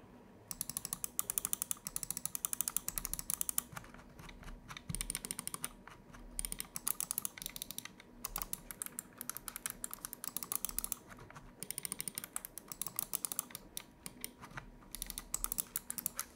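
Rapid, crisp button clicks from a Rexus Daxa Air 3 Rev wireless gaming mouse, clicked in dense, steady bursts with brief pauses, close-up and fairly quiet, with no talking.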